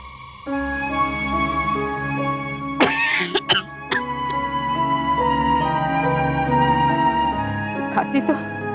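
A few harsh coughs and throat-clearing bursts break through a sustained background tone with voices.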